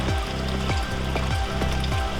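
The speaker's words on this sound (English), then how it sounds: "It's the rain going into the leaf eater." Rain runs into a rain barrel's leaf eater filter, a steady close trickle and splash of water with repeating gurgling pulses from the flow.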